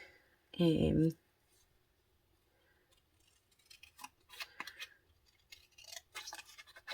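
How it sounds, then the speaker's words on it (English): Scissors snip around stamp packaging paper in a quiet series of short, crisp cuts that come close together, after a brief louder sound at the start. "So I'm just going to cut around this."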